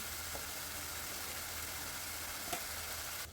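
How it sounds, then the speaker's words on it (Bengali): Spice paste sautéing in a pan, a low, quiet sizzle holding steady throughout with one brief utensil scrape near the end. "দেখুন বেশ কিছুক্ষণ ভালো করে মশলাটাকে কষিয়ে নিচ্ছি।"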